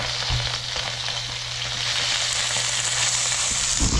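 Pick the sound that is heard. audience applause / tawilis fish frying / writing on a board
tawilis fish frying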